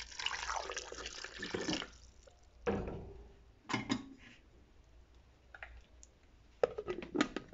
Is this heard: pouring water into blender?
yes